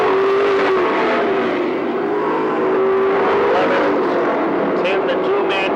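Race cars circle a short oval track during lap eight, engines droning steadily close by with a sustained tone that rises and falls as they pass, under continuous race commentary.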